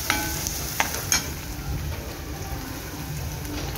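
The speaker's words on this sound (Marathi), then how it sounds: "भाजलेला कांदा व्यवस्थित चमच्याच्या साहाय्याने आपल्याला हलवून घ्यायचं आहे" A spoon stirring fried onion and capsicum in a hot pan, a close crackling sizzle with a few sharp scraping clinks near the start and no talk.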